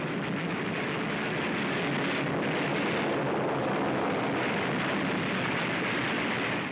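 Anti-aircraft guns firing flak at a torpedo bomber in a wartime naval battle, a dense, continuous roar of gunfire and blasts that stays loud and unbroken throughout.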